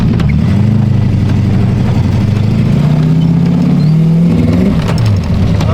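A car engine with a suspected carburetor problem roars at wide open throttle, a loud, continuous low drone that strains without building much power. It is heard close up for several seconds, with no talking.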